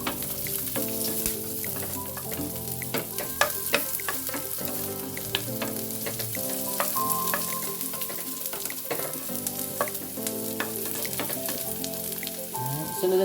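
Ginger frying in a pan, a bright steady sizzle dotted with quick crackles and spatters, heard up close over faint tonal background music.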